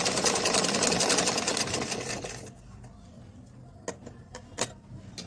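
Sewing machine stitching fabric, a dense continuous whir for a couple of seconds that then stops, leaving a few sharp clicks and taps.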